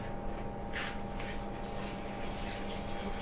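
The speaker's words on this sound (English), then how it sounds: "Give my hand a quick rinse." Kitchen tap water running steadily while a hand is rinsed during sandwich making, a close, continuous splashing hiss with a few brief spattering bursts as the hand moves under the stream.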